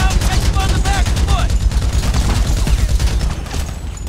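Sustained gunfire in Grand Theft Auto V, rapid overlapping shots forming a loud, dense barrage with a heavy low rumble throughout, and someone talking and exclaiming over the shooting.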